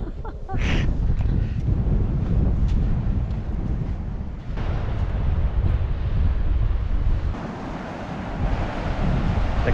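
Strong wind buffets the microphone over a constant roar of surf on a beach in Croatan National Forest in winter, with waves washing in continuously and no voices.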